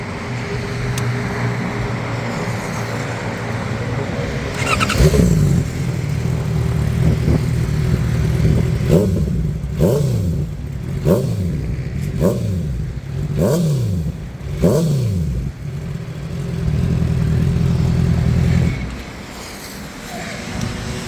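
A Honda CBR650R motorcycle fitted with an aftermarket exhaust idles close by, then throttle blips in a series of about seven sharp revs before settling back to a steady loud idle.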